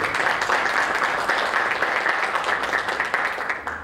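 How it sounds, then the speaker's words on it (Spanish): A medical conference audience bursts into loud, steady applause welcoming a doctor to the stage, dense clapping that slowly tapers toward the end. "lo pedimos con un fuerte aplauso."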